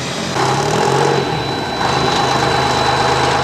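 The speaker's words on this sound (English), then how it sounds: "there goes the log skidder out of the MTR shop, courtesy ECRM, to push engine number 9 into position" A log skidder's diesel engine runs nearby at a railway shop as it pushes steam engine number 9 into position. It gives a loud, steady mechanical rumble with a faint whine, and the level swells slightly partway through.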